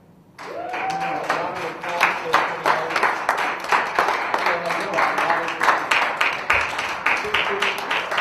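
Sustained applause from a youth group audience, steady dense clapping with sharper individual claps standing out, mixed with voices and murmuring throughout.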